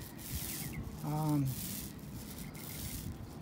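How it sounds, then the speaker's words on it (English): A 3/4 inch nap roller spreads RV roof coating in soft, steady rubbing strokes, close and fairly quiet, with a brief voice-like tone partway through. "I decided to stay with the smaller 3/4 inch nap roller"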